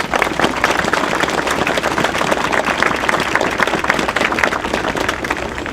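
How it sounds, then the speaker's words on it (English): A crowd applauds steadily at a playground dedication ceremony in Elizabeth Park, Hartford, with dense, continuous clapping that holds at an even, loud level throughout. "please give them a round of applause."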